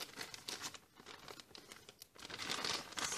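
Plastic bead packaging crinkles and rustles in a series of close, quiet handling bursts as the beads are packed away, with no speech.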